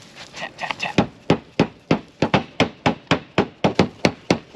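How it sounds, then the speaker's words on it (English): A hammer taps metal clips in a quick flurry of blows that settles into a steady series of about a dozen sharp, close strikes. "So we're just gonna take the hammer and"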